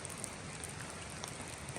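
Light rain patters steadily on surfaces at a cold-weather backpacking campsite in Shenandoah National Park, a soft, even hiss with occasional faint drips and no voices.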